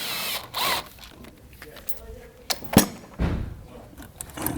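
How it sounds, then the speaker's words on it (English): A ratchet with a 10 mm socket backs out small sheet metal screws on a BMW X3 during an oil filter housing job, giving short close clicking and metallic clatter bursts with intermittent scraping. "with the 10 millimeter, we're just gonna take out these little sheet metal screws back here"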